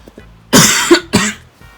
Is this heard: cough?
yes